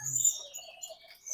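Faint, high whistles and chirps of a white-rumped shama trill in short bursts, with a few softer lower notes beneath, no voices.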